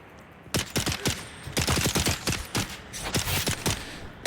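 Rapid bursts of gunfire in the desert survival game Dune Awakening, several quick volleys of loud shots close by, coming in uneven clusters over steady background ambience with no talking.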